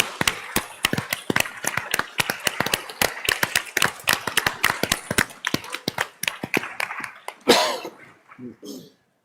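Conference audience applauding, dense claps spread across the room, sustained for several seconds before tapering into scattered claps and brief murmurs.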